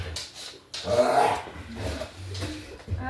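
A dog named Savage growls low and close at intervals, a rumbling snarl that swells and fades in a few bursts while household clutter is shifted nearby.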